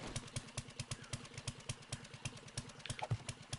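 In the video game 7 Days to Die, wood frames give off a repeating, auger-like idling engine sound, a quiet, rhythmic clatter of regular pulses with no talk.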